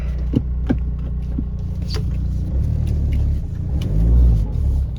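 A cheap Volkswagen Beetle TDI diesel car shifting into reverse and rolling back, its low engine rumble steady and close with a slight rise near the end, a few small mechanical clicks on top, no talk.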